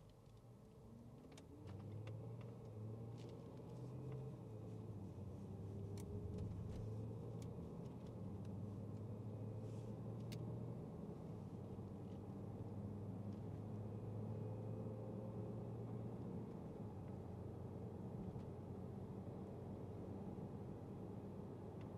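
A 2014 Land Rover Range Rover engine hums steadily while driving, its low drone rising and shifting in pitch as it accelerates, with road rumble underneath and no talking.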